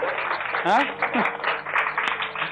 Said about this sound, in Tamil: இதுக்கு நம்ம கைத்தட்டி ஆகணுங்க